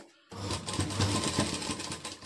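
A sewing machine runs steadily, stitching a folded half border onto a puff sleeve, starting abruptly after a brief silence and holding a close, continuous mechanical whir without talk.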